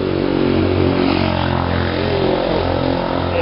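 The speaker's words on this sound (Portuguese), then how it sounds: "É bem uma moto." A motorcycle engine drones loudly and steadily nearby on a busy avenue in Itamaraju, Brazil, a rough continuous rumble without any talking.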